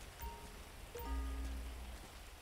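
Light rain falls in the video game GTA 5, a faint, soft hiss behind low game tones and a brief engine-like hum, with no one talking.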